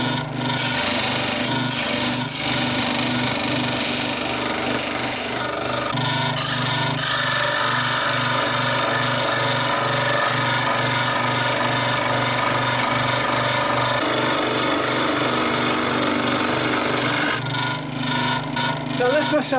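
A power tool cuts out wooden carriage end pieces for a Gauge 1 live steam garden railway model, giving a steady, loud rasping and buzzing drone that runs almost continuously and changes pitch slightly as it works.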